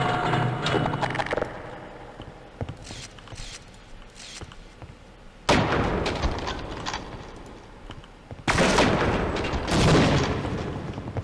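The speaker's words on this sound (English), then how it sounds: "he cooked that grenade" A grenade explodes amid gunfire in the Half-Life shooter game: rapid shots crackle throughout, and two sudden, loud blasts land several seconds apart, each trailing off into more fire.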